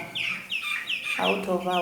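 Eleven-day-old dual purpose parent stock chicks cheep in a steady run of high, repeated peeps, a close flock calling over one another, with a voice briefly talking in the second half.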